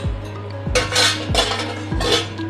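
Pieces of boal fish are lowered into a wok of hot oil, each drop setting off a short, loud burst of sizzling with a low clunk, three in a row over a few seconds.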